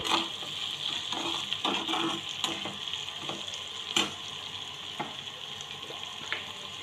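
Vegetables, including cauliflower, stir-fried in a pan over full flame for a Chinese-style recipe: steady close sizzling and frying with repeated scraping stir strokes and occasional clinks of the spatula against the pan.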